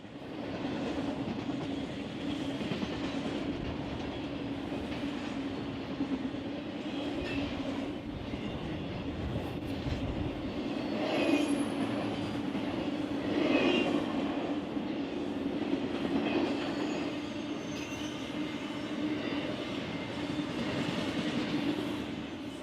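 A BNSF freight train rolls along the Marceline mainline near Fleming and CA Junction, a continuous rumbling roar of wagons with rhythmic wheel clatter and faint squeals swelling midway.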